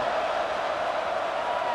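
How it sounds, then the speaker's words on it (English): Stadium crowd at a college football video game between UAB and Memphis, late in a tied fourth quarter, gives off a steady, dense roar that holds level throughout without breaks or talk over it. "this crowd is buzzing after that last score"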